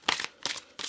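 Tarot cards being shuffled up close, three quick riffling bursts in under a second, crisp and papery with no voices.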